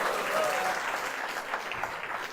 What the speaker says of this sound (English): That's the cheapest applause I could ever get